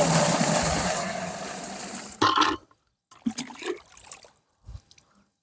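Water is poured into a homemade free-energy water pump container, filling it about three-quarters full: a dense, steady pouring wash for two seconds, then a sharp splash and scattered gurgles and drips as the flow stops.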